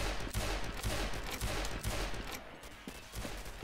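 Rapid gunfire in a Garry's Mod roleplay game, a loud burst of close, sharp shots firing in quick succession with a short pause midway.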